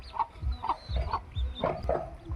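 A native country hen clucks in a rural yard, a run of five or six loud, close, throaty clucks in an uneven rhythm with low thumping between them.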